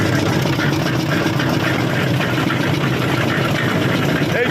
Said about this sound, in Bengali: মেশিন চালাচ্ছে